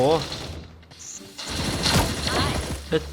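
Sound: gunfire from a gun in the video game Sausage Man

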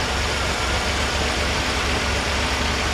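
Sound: old car engine idling

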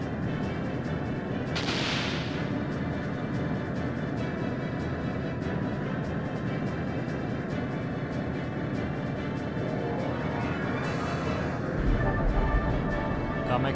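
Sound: harpoon cannon firing in video game Skies of Arcadia Legends

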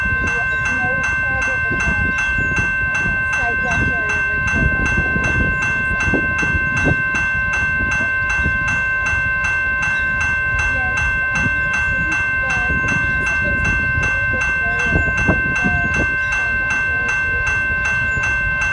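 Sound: coal freight train passing

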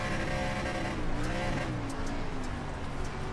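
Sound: race car engine revving on dirt in the video game iRacing

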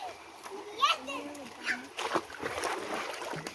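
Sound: feet splashing in water

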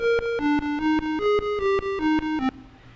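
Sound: chiptune single channel echo slowed down, Famitracker

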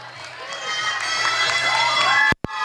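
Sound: audience applauding and cheering at volleyball awards ceremony

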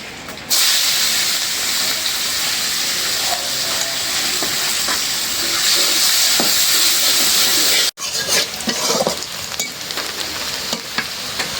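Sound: onions frying in a pan for eggplant curry

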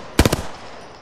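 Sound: gunfire in the video game Apex Legends

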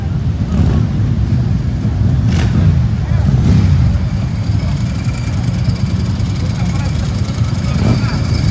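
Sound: chopper motorcycle engine running

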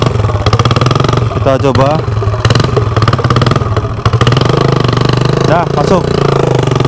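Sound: streetcub drag race motorcycle engine started and revved

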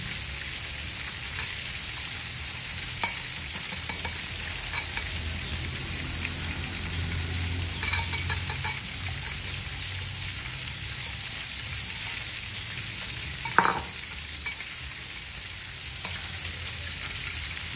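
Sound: chicken being stir-fried in pan

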